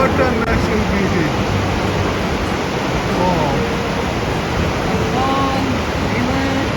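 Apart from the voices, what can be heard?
Takakkaw Falls waterfall rushing water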